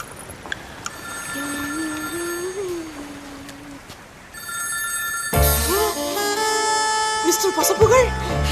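A telephone rings in a Tamil comedy film scene: a loud, bright electronic ring with repeating trills cuts in partway through and continues to the end, after a quieter stretch with a voice.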